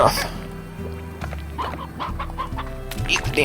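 Chickens cluck in the video game Slime Rancher, a busy, close run of repeated clucks and squawks overlapping in an uneven rhythm over a steady low game hum.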